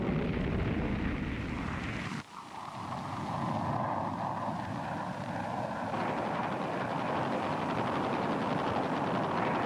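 Jet fighter-bombers roaring loud and close in a Vietnam War scene near Khe Sanh, a continuous heavy engine drone with a brief dip, then rumbling on steadily like distant blasts and aircraft together.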